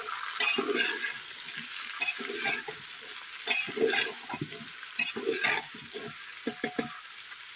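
Kashmiri-style kohlrabi (haakh monje) sizzles in a pan while a spoon stirs it, producing repeated scraping strokes over a soft, steady frying hiss, close and fairly quiet.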